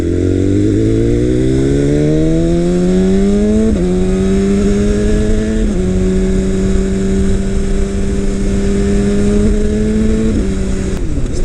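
A 2018 BMW S1000RR motorcycle fitted with an Akrapovic exhaust roars loudly up close, its engine note climbing through several gear-like steps before holding a steady high drone, with no voices.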